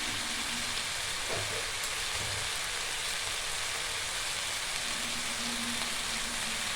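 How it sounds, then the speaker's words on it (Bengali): Turmeric and red chilli powder fry in hot oil in a pan for a stuffed pointed gourd dish, giving a steady, even sizzle with no talk, with a brief soft scrape partway through. "দিয়ে মশলাটাকে ভালো করে আমি কষাবো"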